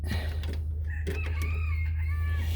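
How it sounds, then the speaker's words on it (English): A rooster crows nearby with a rising, drawn-out call over a constant low engine hum, in a garage setting where a 1990 Ford Bronco is being worked on. "Shut up, chicken."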